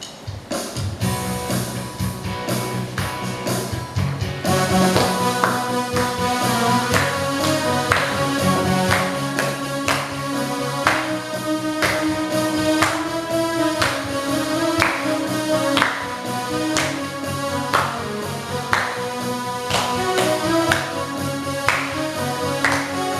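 Hands clap in steady rhythm along with a children's song sung at a Sunday church service, regular sharp claps repeating throughout under continuous singing voices and music.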